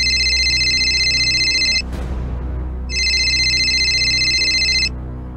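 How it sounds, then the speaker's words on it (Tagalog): A telephone rings loudly while a call is being placed. Two long electronic ring bursts are separated by a short pause, with no talking. "Tatawagan lang natin yung misis mo, no?"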